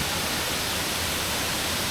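Waterfall in Kamphaeng Phet, Thailand, a dense, constant roar of rushing water filling the whole clip, loud and close with no voices.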